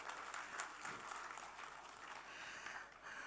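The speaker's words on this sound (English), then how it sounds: "Please clap for yourself." Conference attendees clapping for themselves at an AI finance event, a quiet, diffuse spread of applause heard from a distance, fairly even throughout with a few louder claps standing out.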